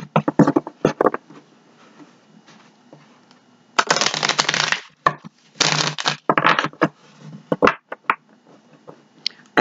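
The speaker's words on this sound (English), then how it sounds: "Let's give it one more shuffle." Tarot cards being shuffled by hand, a burst of crisp riffling and papery slaps with two louder flurries amid scattered taps and card handling, close and fairly loud, no talking.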